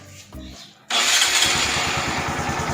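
A motorcycle with a dead battery cranks on a Xiaomi 70mai jump starter, a brief whir and pause before the engine catches and settles into a steady, loud, close putter, with someone speaking briefly at the start.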